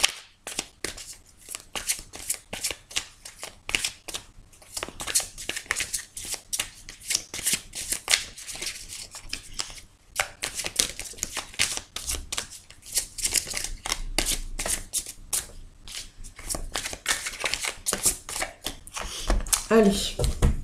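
Tarot cards are shuffled by hand before the deck is cut, producing rapid, repeated riffling and flicking bursts with brief pauses, close and crisp, alongside intermittent talking.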